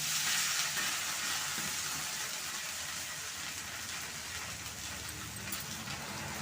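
A murungai keerai (drumstick leaf) dosa crisps on a hot pan with a dense, even hiss that stays constant throughout, sounding soft and rain-like with no voices over it.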